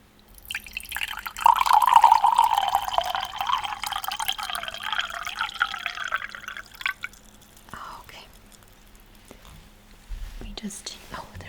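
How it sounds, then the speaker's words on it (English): Water pours into a drinking glass in a quiet room, a close, bubbling stream lasting several seconds that rises slightly in pitch as the glass fills, followed by soft clinks and handling sounds. "Let me just pour you some water."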